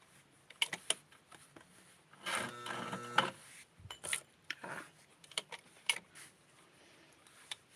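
A sewing machine stitches a hem on small doll clothing, with short mechanical whirring bursts broken by clicks and taps, one longer run in the middle, all close and fairly quiet with no talking.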